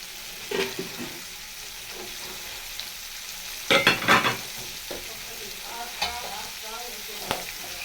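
Shrimp fry in a pan with a low, quiet sizzle, broken by a few sharp scraping clatters of stirring, the busiest burst coming midway.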